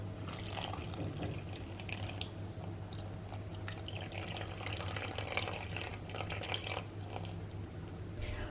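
Warm water runs steadily into a bowl of flaxseed bread dough with egg and butter, a continuous close trickling and splashing over a low hum.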